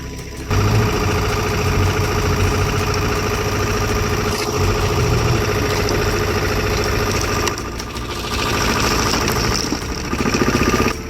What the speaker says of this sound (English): With its powerful engine, the machine easily handles massive stumps.